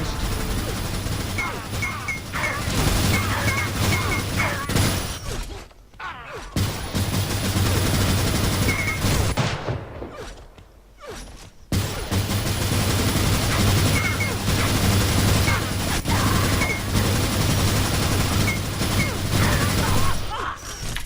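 A minigun roars in long, continuous bursts in the video game AssaultCube, a loud unbroken rattle that drops out briefly twice before resuming.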